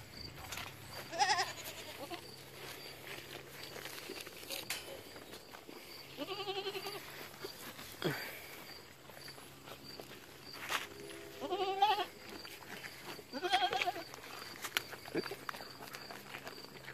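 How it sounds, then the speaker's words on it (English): Goats scuffle over leftover uncooked sweet corn on a farm, giving a few scattered bleats and hoof scuffs over quiet low background noise, with brief thuds between calls. "Watch the goats fight over that."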